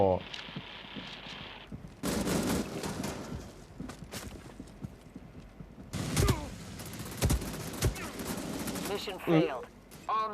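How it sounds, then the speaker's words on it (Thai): Gunfire in the video game Area F2, with sharp shots scattered among sustained bursts and mechanical clatter, mid-distance and fairly loud, while voices talk over parts of it. "ยิงไปจากไหนวะ"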